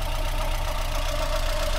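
A Renault 20 engine idling steadily nearby, a low, even rumble with a fine regular pulse and no other sounds.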